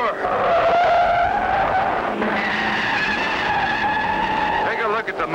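Cartoon race cars skid along a road during a race, giving a loud, sustained tire squeal with shifting, wavering pitch and engine noise that fills the whole stretch.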